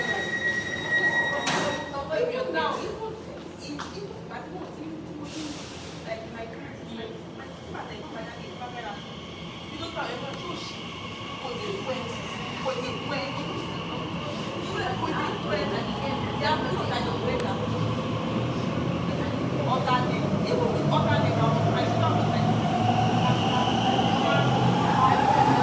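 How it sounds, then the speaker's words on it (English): A London Underground train pulls into Liverpool Street station, a steady rolling rumble that swells louder as it nears, with brake squeal and a sharp early clatter; a voice speaks over the noise. "Here is my train arriving into Liverpool Street"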